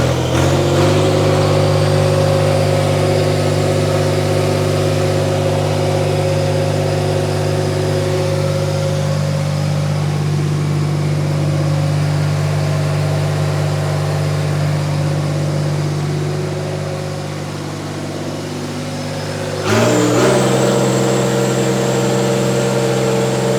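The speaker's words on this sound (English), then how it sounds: "Let me rev it up, John." A 20-year-old Flextrac engine, long left sitting, runs loud and close with a steady droning hum, dipping briefly before a sharp rise in revs near the end.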